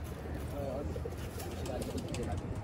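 Soft, low pigeon coos repeat a few times close by over a dull, constant background hum.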